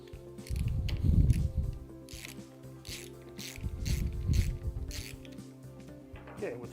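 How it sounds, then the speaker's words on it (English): Four bolts come off the end cover of a 2520V double hydraulic pump, two long bursts of a ratchet wrench clicking rapidly up close, separated by quieter pauses, with a short metallic clink at the end. "we're going to remove the 4 bolts from the end of the cover"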